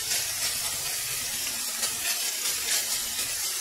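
Sliced meat for a Korean funchoza salad sizzles in a hot pan, a steady dense hiss of frying that holds evenly throughout with no voices over it.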